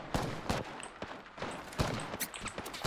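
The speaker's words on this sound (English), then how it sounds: "Listen up, I'm getting shot at." Rapid bursts of gunfire from an Apex Legends match crackle in quick succession, fairly faint and spread across the whole moment with short gaps between volleys.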